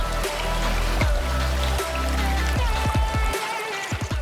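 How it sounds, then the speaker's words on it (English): Water splashes and trickles steadily from a backyard pool's built-in waterfall, a continuous close babble with scattered drips and light splashes over a low hum. "and also look at this gorgeous waterfall."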